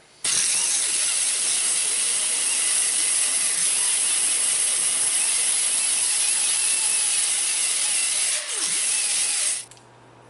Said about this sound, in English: And then grind it.